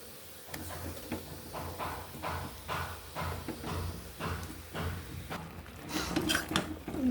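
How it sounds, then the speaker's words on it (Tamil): Cut plantain pieces cooking in a pan while being stirred, with repeated rhythmic scraping and clinking of a spoon against the metal, close and steady, no talking. "இதில் நம்ம நறுக்கி வச்சுருக்க வாழைக்காய் பீஸ் அதில் போட்டுடணும்"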